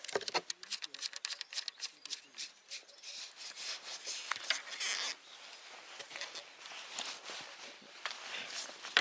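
A Flagman feeder fishing reel is folded up close by: quick clicks, rubs and scraping handling noises in an uneven, busy rhythm, with bright rattling bursts and someone speaking at points.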